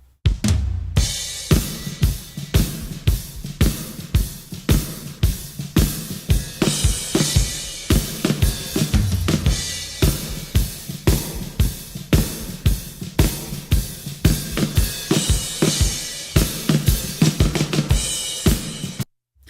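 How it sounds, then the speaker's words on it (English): An isolated drum kit, heavily EQ'd and compressed and drenched in reverb with three reverbs layered on the snare, plays a steady groove of punchy kick and snare hits that sounds big and roomy, with no voices. "the drums in isolation, sounding big and fat, sound like this."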